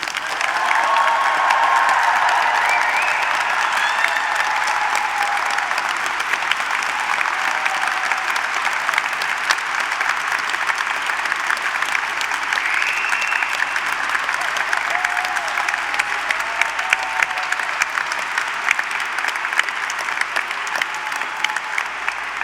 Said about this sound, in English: Please give them another huge round of applause.